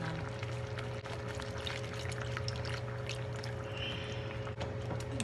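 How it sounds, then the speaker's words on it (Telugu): Water pours steadily into a thickened cornstarch sauce in a pan, a continuous close trickling wash over a low kitchen hum, with no talking. "నేను కొంచెం వాటర్ వేస్తున్నాను."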